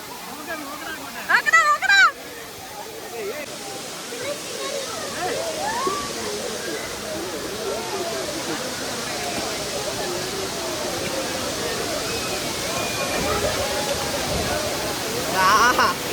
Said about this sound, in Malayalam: വേറെ വെള്ളച്ചാട്ടം ഇവര് കുളിച്ചിട്ട് വീഴുന്ന വെള്ളത്തിലാണ് അവര് കുളിക്കുന്നത്